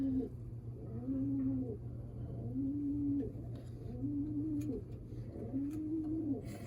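Racing pigeons back in the loft after a 250-mile race from Onawa, Iowa, cooing in a steady repeating rhythm of soft rolling calls, close by over a low background hum, with no talking.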